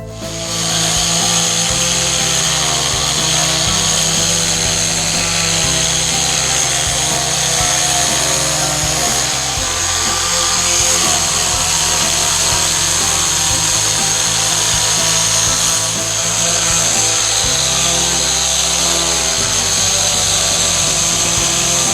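A power sander runs steadily and loudly throughout on reclaimed lumber, a continuous whine with a rough grinding rasp as it works across the wood.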